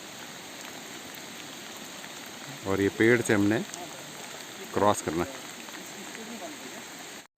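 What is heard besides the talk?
rain falling in jungle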